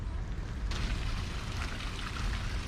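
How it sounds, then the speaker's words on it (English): A stream flowing through the UCLA Mildred E. Mathias Botanical Garden makes a steady, close babble and rush of running water that holds an even level throughout, with no voices. "the sound of flowing water"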